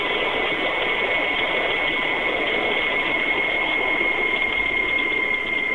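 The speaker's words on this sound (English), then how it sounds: "There we go, that's the motor braking." The brushless electric motor of a 5-inch narrow gauge maintenance train gives a steady, high-pitched whine and hum as it applies dynamic braking, continuous and close with constant loudness and no speech.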